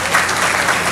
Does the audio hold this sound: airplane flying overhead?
no